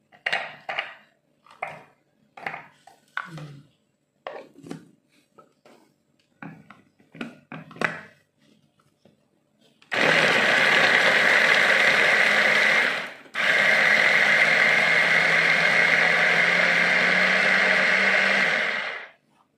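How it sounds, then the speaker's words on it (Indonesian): An electric chopper grinds shallots and spices. A few light clinks and taps come first, then the motor whirs loud and steady in two long bursts with a brief stop between them. "Masuk ke sini ke chopper."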